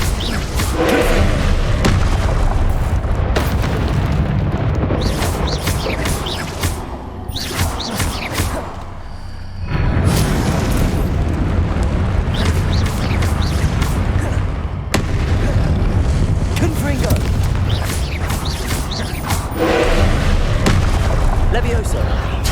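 Confringo fire spell blasts in the video game Hogwarts Legacy, loud booming bursts repeating throughout amid continuous game action and other spell effects, with voiced spell calls over the top.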